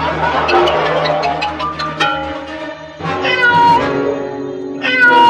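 A cat meows loudly and insistently nearby, several drawn-out, wailing meows in a row.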